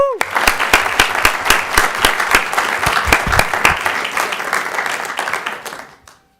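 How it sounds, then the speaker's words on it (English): An audience at a city council meeting applauds military families with brisk, dense clapping that holds strong for about six seconds before stopping abruptly, voices faint beneath. "Let's give them a round of applause."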